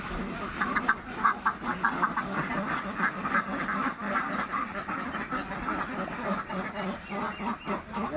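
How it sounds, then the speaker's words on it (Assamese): A flock of ducks at a rural duck hatchery quacks continuously, with a dense chatter of overlapping calls that carries on throughout. "হাঁহবিলাক এৰি দিছোঁ।"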